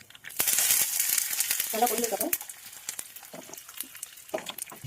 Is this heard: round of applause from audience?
no